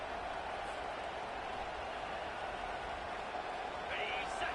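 Stadium crowd at a football game roars in a steady, dense wash as the offense lines up on first and goal, the noise holding loud and unbroken throughout.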